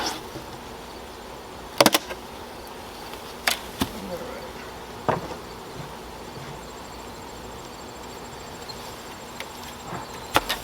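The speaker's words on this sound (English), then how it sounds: "I bumped the bees out of the lid." Bees are knocked out of a beehive lid: a few sharp, irregular thumps and raps, a couple of them close and loud, over a constant low buzz of bees and outdoor ambience.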